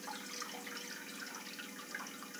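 About one and a half glasses of water are poured into a pan set on a gas stove, making a soft, steady splashing stream that stays fairly quiet and close throughout.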